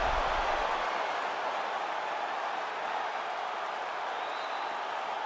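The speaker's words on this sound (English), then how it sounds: "So the crowd voicing its appreciation after that round." A UFC arena crowd applauds and cheers between rounds of a featherweight title fight, a dense, steady roar of clapping and voices that holds loud and constant throughout.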